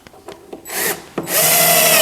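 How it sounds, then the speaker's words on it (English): A power drill drives coated deck screws into a wooden stool brace: a few light knocks, then two whirring bursts of the drill up close, the second longer and sustained. "I'm putting them together with these coated deck screws."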